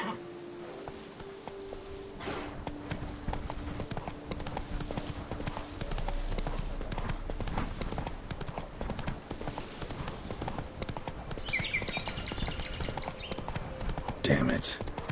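Hooves of Roach, the horse in Witcher 3, clatter in a continuous galloping rhythm beneath music and game noise, with a short whinny late on.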